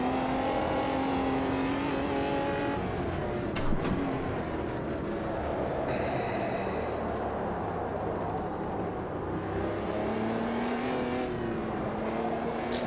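Omega stock car from 1999 racing in the sim game Automobilista 2, its engine droning steadily and loud throughout, with pitch rising and falling through gear changes and brief revs, and no talking.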